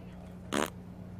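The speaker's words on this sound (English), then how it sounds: "you are farting" A man's single short, loud fart bursts out for about a fifth of a second over a steady low indoor hum in a TV comedy scene, with no talking around it.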